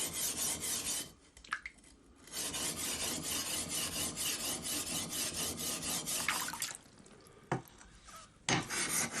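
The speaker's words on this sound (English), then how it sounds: "using coarse grindstones to remove any excess surface metal" A steel Japanese sword blade is ground against coarse grindstones, making close, steady rasping strokes that run for several seconds and then break into brief pauses and short bursts.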